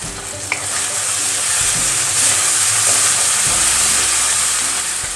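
Spicy masala chicken curry base fries in a hot pan with a steady, loud sizzle and hiss, plus a few stirring scrapes; no voices.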